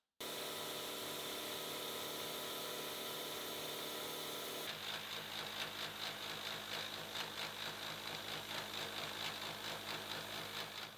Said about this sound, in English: Along with cutting the actual slanted face, I'm also cutting the finished depth at the bottom.